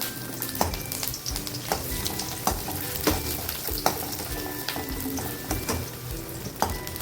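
Onion, fenugreek seeds and curry leaves fry in a pan with a constant crackling sizzle and occasional stirring clinks, moderately loud and close, no one speaking.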